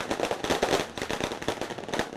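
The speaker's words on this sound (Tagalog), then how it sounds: "tila nagmistulang dagat ng paputok ang kalsada" Firecrackers burst in rapid, crackling volleys along a street in Tondo, Manila, as 2025 arrives at midnight, a dense and continuous string of sharp pops.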